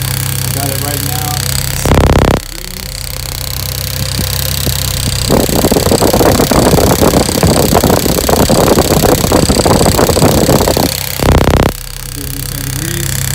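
A Lexus SC300 engine idles steadily on its first start, a close, loud, even rumble with a rougher, busier stretch in the middle, framed by two brief bursts of noise.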